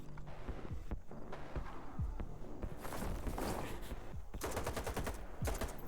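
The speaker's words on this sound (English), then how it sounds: "Swap over to the machine gun." Machine-gun fire in S.T.A.L.K.E.R. 2 crackles in rapid bursts over a mechanical background, fairly quiet and irregular, with the heaviest rattling volleys near the end.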